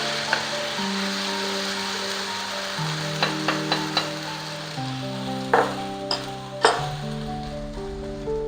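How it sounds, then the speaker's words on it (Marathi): Tomato omelette egg mixture sizzles steadily in an oiled pan, a continuous close frying hiss with a few light clinks of a utensil against the pan, no voices. "आता आपण हे मिश्रण आहे ते पॅनमध्ये टाकूया"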